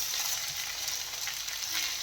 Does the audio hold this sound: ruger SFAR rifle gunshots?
no